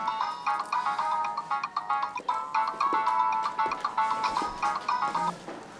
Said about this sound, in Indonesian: Ya Allah, Nya, angkat dulu teleponnya